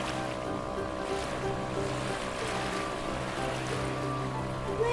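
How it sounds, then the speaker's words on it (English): A toy boat scene with a wakeboarding cartoon figure gives a steady engine drone under continuous wave and water wash, moderately loud and even throughout, with no talking. "Look who's on a wakeboard! It's Goofy! He's riding the waves!"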